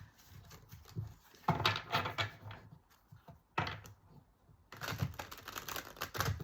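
A deck of tarot cards is shuffled in several bursts of rapid, papery riffling and clicking, close and fairly quiet, with brief pauses between rounds.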